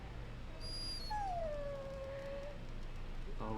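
Dog in the video game Dragon Age Origins letting out a drawn-out, falling whimpering howl in the middle of a low background hum, with a short faint yelp near the start and no speech.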